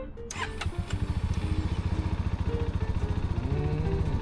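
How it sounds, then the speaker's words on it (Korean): A CF Moto 250 CL-C cruiser motorcycle's single-cylinder engine cranks and fires up, settling into a steady, rapid, even idle thump close by, with no talk over it. "시동을 거니까 단기통 엔진 소리가 나네요."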